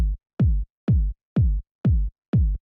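Five deep, boomy lo-fi house kick drum hits in a steady pulse, each a punchy low thud sliding down in pitch with a brief tail, isolated with no other sound.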